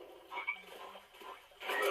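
Frogs croak in the LEGO Party video game, a few soft, quiet croaks spread over a short stretch with no talk.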